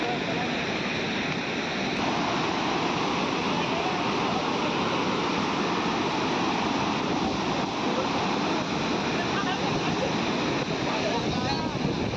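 Sahastrakund waterfall in Maharashtra, running full, roars with a steady, dense rush of water that stays loud and unbroken throughout.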